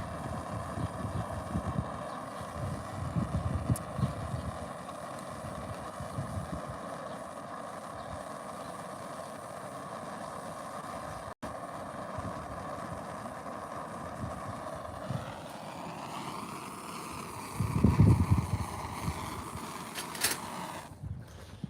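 Breezy outdoor wind rumbles and buffets the microphone in a steady low roar for the whole stretch, with a brief gust swelling near the end; no one speaks.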